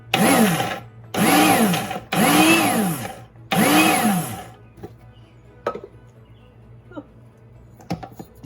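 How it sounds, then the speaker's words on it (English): A kitchen blender whizzes bouillon and mushroom powder in four loud bursts of about a second each, followed by softer clinks and handling sounds. "we're just going to give it a whiz and get it to blend up better."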